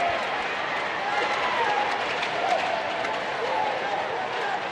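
Rugby crowd at an Ospreys versus Munster semi-final applauding steadily, a dense, continuous wash of clapping with faint cheers, loud and sustained from start to finish.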